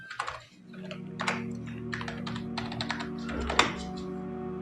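A steady run of close, clicky keystrokes on a computer keyboard enters a cash receipt voucher in accounting software, over a constant low electrical hum.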